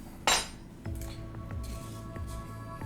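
A mojito with bitters stirred with a spoon in a glass: a few light clinks and taps against the glass, quiet and close, with no speech.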